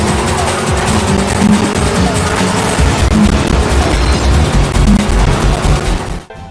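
Car crashes from the racing game Destruction Derby, a loud continuous roar of engines with scraping, tire noise and repeated metallic impacts, cutting off sharply near the end.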